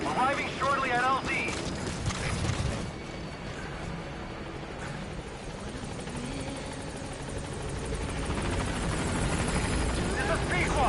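The Pequod helicopter arrives at a landing zone in the video game Metal Gear Solid V, its rotor whirring in a loud, continuous drone that swells slightly toward the end while voices talk over it.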